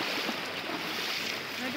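Strong current of a rocky jungle stream below the Sungai Pisang waterfall in Gombak, near Kuala Lumpur, a steady loud rushing wash of water filling the whole moment.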